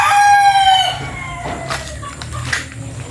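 A rooster crows loudly and close by, its call trailing off, followed by softer clucking of chickens in the background.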